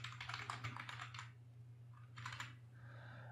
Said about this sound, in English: There is a lot of typing